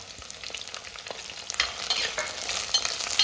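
Small shallots dropped into hot oil with chilies, crackling and sizzling loudly up close, the frying swelling stronger midway with scattered utensil taps and stirring.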